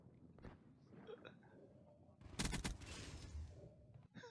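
Muffled underwater gunfire from Call of Duty Black Ops III, a dense burst of shots in the middle of the clip over a constant murky game ambience.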